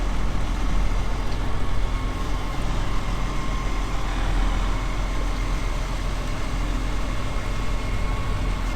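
A farm tractor with nearly 16,000 hours on it reverses slowly between barn doors while mucking out, its engine giving a steady, close diesel drone with no change in pace.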